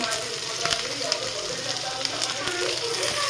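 Ivy gourd pieces frying in a pan give a steady, dense sizzle throughout, with a few soft clatters as they settle in the hot oil.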